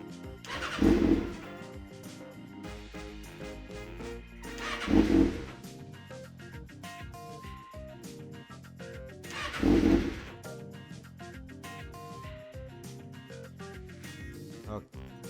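A 2019 Kawasaki Ninja ZX-6R sport bike with M4 exhaust is cranked three times at roughly even intervals, each attempt a short whirring starter burst that fails to catch, over a quiet steady background.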